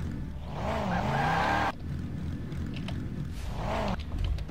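A car in the game Garry's Mod skids with a sustained tyre squeal over engine rumble, then a second, shorter screech follows a few seconds later.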